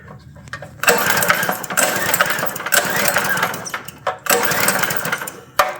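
A minibike's small engine is pulled over by hand with no fuel reaching it, giving bursts of dry, rhythmic cranking with short pauses between pulls, loud and close.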